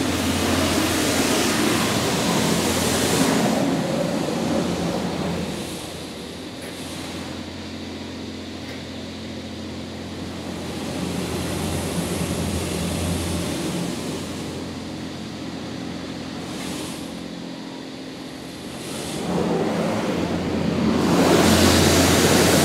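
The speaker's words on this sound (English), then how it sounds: "Now we have our high pressure rinse." High-pressure rinse at a Magic Wand Nexus automatic car wash, a loud broad rushing spray of water that swells, eases off in the middle, then surges again near the end, with no talking.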